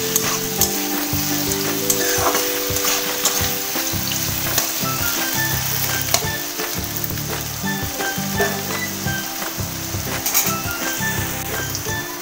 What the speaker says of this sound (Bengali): আবারও ভালো করে নাড়াচাড়া করে নেব।